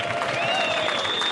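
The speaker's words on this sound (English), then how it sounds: "Give them a round of applause." Crowd applause at a surf contest awards ceremony on the beach, steady dense clapping over a brief stretch, with whistle-like tones riding above it.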